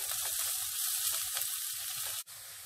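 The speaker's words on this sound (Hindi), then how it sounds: "अब मैं इसमें प्याज डाल रही हूँ और इसे हम भून लेंगे।" Chopped onions frying in hot oil with cumin seeds in a kadai give a loud, steady close sizzle that continues without pause, with a brief stir-like break near the end.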